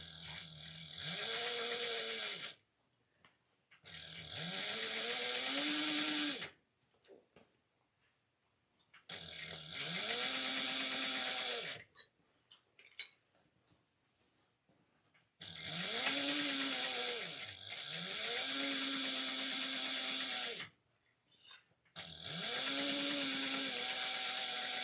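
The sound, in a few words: sewing machine top stitching a tote bag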